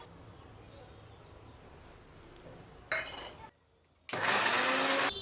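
Kitchen blender pureeing three onions and three tomatoes, loud whirring bursts starting abruptly and stopping, with a short pause between runs, after quieter kitchen clatter.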